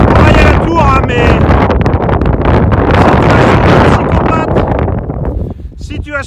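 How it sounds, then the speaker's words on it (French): Strong wind of around 60 km/h buffets the microphone near a tower by the sea with mountains in view, a loud continuous roar and rumble throughout, while someone talks over it. "il y a tellement de vent"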